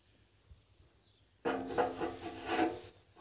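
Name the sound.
joining metal square pieces for well-cleaning hooks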